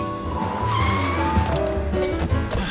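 A taxi skids to a stop with a loud, sustained tire squeal over engine noise, the screech sliding down in pitch across nearly three seconds.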